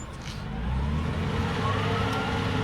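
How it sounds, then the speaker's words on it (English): Steady low engine rumble of a forklift lifting a damaged Prado Land Cruiser at an Australian car yard, the motor swelling slightly after the first half second and then holding a continuous drone. "This guy's picking up that car via forklift, literally, right now."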